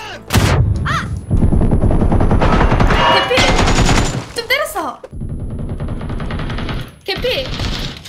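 Rapid bursts of automatic gunfire crackle in a PUBG match, loud and close, in several volleys separated by short pauses, while players talk over the shooting.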